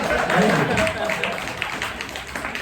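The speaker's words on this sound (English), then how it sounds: "You guys can clap for that" A studio audience at a comedy dating show breaks into steady applause, a dense wash of clapping that lasts throughout while a voice talks over it.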